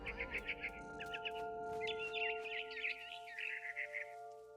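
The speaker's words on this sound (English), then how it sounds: "Then I heard chirping outside my window. It was a barn swallow going back to her nest." A barn swallow chirps in quick repeated bursts outside a window in the video game What Remains of Edith Finch, set over soft sustained background tones.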